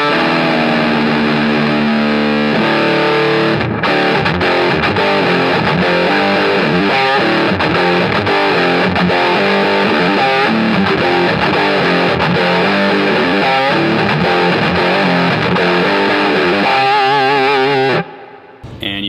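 Heavy distorted electric guitar riff played loud and continuous in a guitar store, chugging rhythmic chords dominating throughout with no talk, ending abruptly near the close.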